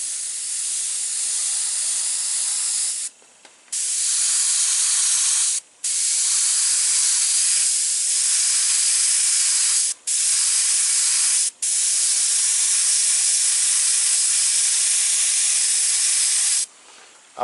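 An airbrush sprays blue paint onto painted eyes, a steady loud hiss in long bursts broken by several short pauses where the trigger is released.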